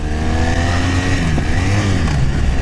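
Motorcycle engine revving steadily and close, its pitch sweeping up then dropping as a gear change is missed while riding in touring boots, with continuous engine drone and no talk.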